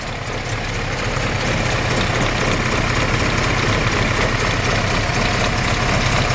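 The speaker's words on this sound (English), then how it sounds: "You can hear those little solid lifters clicking in there." A 1950 Willys Hurricane four-cylinder engine in a panel wagon idles steadily and close, a dense continuous rumble with a fast ticking texture from its solid lifters.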